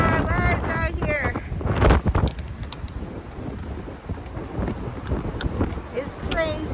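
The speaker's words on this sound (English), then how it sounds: "It's crazy windy." Strong wind buffets the microphone out on the water on a stormy morning while crabbing by boat, a loud, gusting roar with rumbling blasts, and a voice speaks briefly over it near the start.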